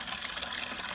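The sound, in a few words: bare root tree being placed in water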